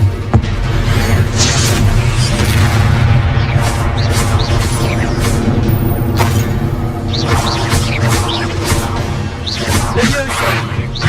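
A fire spell cast in the Hogwarts Legacy role-playing game: a loud, dense burst of whooshing, crackling magic and impact booms that runs continuously over busy game effects, with a voice shouting spell names.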